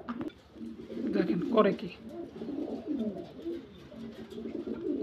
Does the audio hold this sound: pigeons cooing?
yes